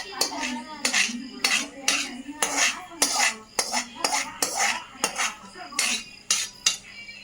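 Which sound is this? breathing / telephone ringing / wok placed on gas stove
wok placed on gas stove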